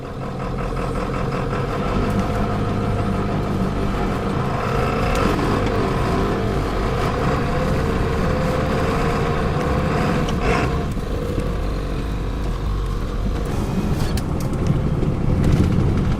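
A 1996 Ford F250 with a manual transmission drives in gear. Its engine gives a loud, steady rumble up close throughout, with no talking.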